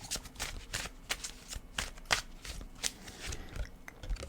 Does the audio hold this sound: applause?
no